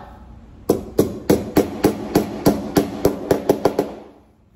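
A small hammer strikes about a dozen times in a steady, even rhythm, each hit sharp and close, then the blows stop.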